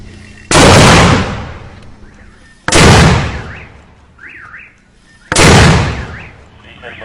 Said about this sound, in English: they're just about to send this mortar into enemy territory